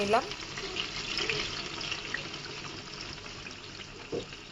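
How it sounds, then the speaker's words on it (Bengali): A few pieces of pointed gourd fry in oil with a soft, steady sizzle, faint and close, with a brief clatter near the start and a small bump toward the end. "এখানে কয়েক টুকরো পটল ছিল সেটাও ভেজে নিচ্ছি আমি"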